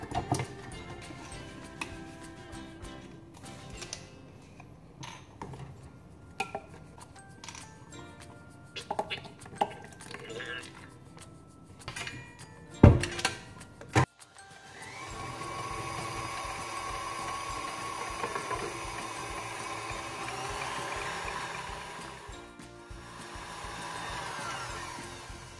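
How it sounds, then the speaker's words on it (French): A stand mixer whisk whips cold liquid cream for a chocolate Trianon cake, first with scattered clinks and ticks, then a steady loud whirring hum that keeps running without talk. "Tout est bien froid, donc je vais monter ma crème fouettée."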